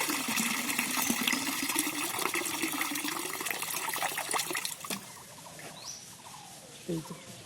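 Soaked urad dal washed by hand in water at a riverside ghat, with continuous swishing, trickling and splashing, then quieter dribbles and a few drips near the end.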